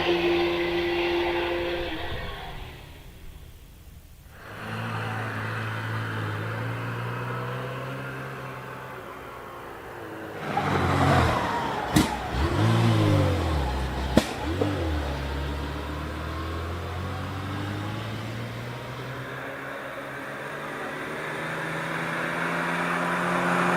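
A vintage Talbot sports car accelerates at a hill climb, its engine rising through the gears and swelling loud as it passes close, then fading into the distance.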